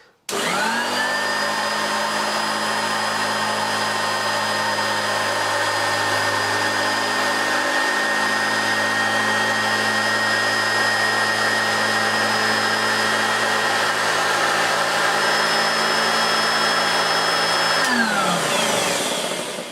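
A Hoover Turbopower Junior U1220 upright vacuum cleaner runs on a floor, spinning up with a whine, then holding a loud steady motor drone with a high tonal whistle before winding down at the end.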